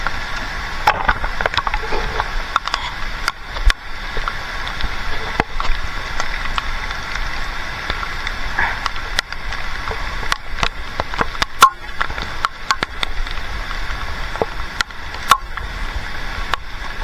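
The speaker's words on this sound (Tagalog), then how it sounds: "Lakas ng ulan." Heavy rain pours steadily through a mountain forest, a dense continuous hiss with scattered sharp drips and knocks on leaves and wood, close and loud throughout with no talking.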